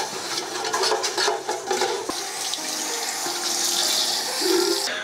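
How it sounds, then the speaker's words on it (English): Running tap water splashes into a stock pot as it is washed in a kitchen sink, a close, steady rush that changes as the flow shifts against the metal, with no talking. "it's important to wash your pot as well"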